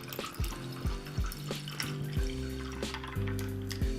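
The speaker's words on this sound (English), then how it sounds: "So let's pour over ice." Canned cocktail poured over ice into a glass, a bubbling, glugging stream with rising tones as the glass fills and repeated gulping pulses from the can, close and clear with no talking.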